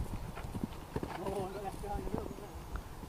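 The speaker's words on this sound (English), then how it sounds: "Canter." A horse cantering during show-jumping practice, its hooves giving a soft, rhythmic clip-clop with a brief whinny-like note, fairly faint and distant. Talk can be heard behind it.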